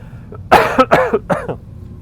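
A few sharp coughs in quick succession, close and loud, followed by a brief throat-clearing rasp.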